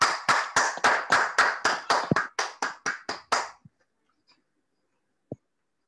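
About a dozen sharp, evenly spaced claps in a steady rhythm from a small group welcoming a webinar guest, stopping after roughly three and a half seconds, followed by near silence and one faint click.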